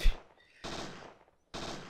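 Bursts of gunfire from the video game Parasite Eve 2, with two loud sustained volleys separated by a short silence, heard alone with no talk.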